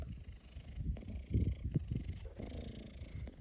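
A domestic cat purrs close up, a rumbling pulsing purr in uneven breaths, fairly faint and alone.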